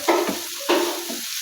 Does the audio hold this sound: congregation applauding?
no